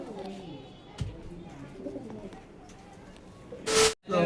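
Pigeons coo softly in a loft, low repeated calls under nearby talk, with a brief loud hiss-like burst near the end.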